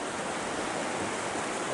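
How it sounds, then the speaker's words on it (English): Louise Creek, flowing out of Lake Louise, rushes steadily with a dense, continuous roar of water, close and loud with no pauses or voices. "This is the creek coming out of Lake Louise."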